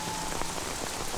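Steady rain falls close by, a dense, even hiss of drops striking the ground with scattered louder splats, continuous and unbroken for the whole stretch with no voices.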